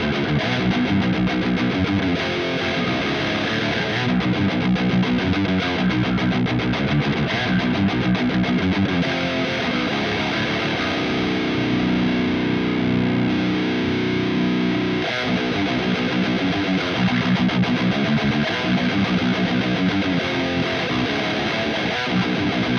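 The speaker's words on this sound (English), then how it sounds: "No boost, just raw Solar guitar tone." A Solar electric guitar played through an amp's distortion channel on the bridge pickup with no boost, giving a loud, continuous, heavily driven tone of chugging riffs and sustained chords with no talking.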